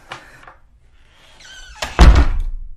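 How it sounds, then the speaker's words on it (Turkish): A door closed in an office in a Turkish radio drama, starting with faint creaks and shuffles before a loud, close thunk as it shuts and rumbles briefly. "Lütfen kapıyı kapatın."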